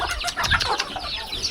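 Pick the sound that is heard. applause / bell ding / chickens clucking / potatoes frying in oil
chickens clucking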